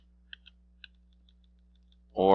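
A few sharp, light clicks of computer keyboard keys tap out in a quiet room while arrowing through options, spaced irregularly before a person begins talking.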